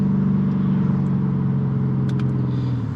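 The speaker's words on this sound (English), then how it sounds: "if I give it gas here, and then I get the pops" Straight-piped Mercedes C55 AMG with Kleemann headers and valved mufflers, burbling steadily at close range as the gas is feathered, with a few faint crackling pops near the end.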